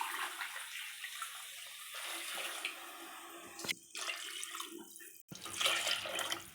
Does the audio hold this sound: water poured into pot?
yes